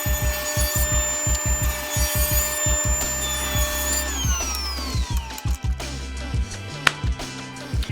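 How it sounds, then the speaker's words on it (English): Saw ripping wood into half-inch strips for woodworking projects: close, loud rhythmic rasping strokes and scraping alongside a steady whining tone that slides downward partway through, with no talking. "Let's go ahead and rip some of these at a 1/2 inch."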